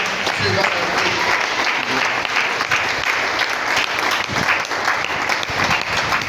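A church congregation claps steadily in broad, dense applause, filling the space loudly and continuously with a crowd murmur beneath.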